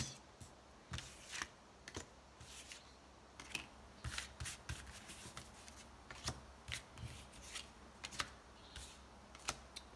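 Oracle cards shuffled by hand for a tarot-style reading, a run of quick papery riffles and flicks in irregular bursts, close and soft, with no talking.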